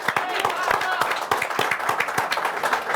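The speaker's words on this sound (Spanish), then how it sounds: "También hoy con un aplauso, hoy mucho aplauso." Studio audience applause for a guest journalist on a talk show, steady rhythmic clapping from a crowd that runs throughout, with a voice talking over it.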